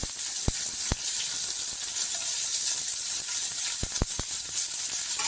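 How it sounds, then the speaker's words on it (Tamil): Sliced onion with fennel seeds frying in hot oil for a mushroom dosa filling, a steady bright hiss of sizzling throughout, broken by a few sharp clicks of a utensil against the pan. "இப்போ வெங்காயம் நல்லா வதங்கட்டும்."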